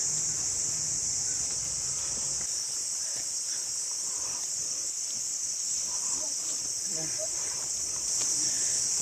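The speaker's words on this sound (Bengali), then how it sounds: "শুধু মানে জঙ্গলে যেরকম আবহাওয়া হয়, ঝিঝি পোকার আওয়াজ শুধু সেইটুকু পাওয়া যাচ্ছে।" Crickets chirp in a forest in Arunachal Pradesh near the Kameng River, a shrill continuous high-pitched drone that stays steady and fairly close throughout, with faint rustles and a few soft bird-like squeaks beneath.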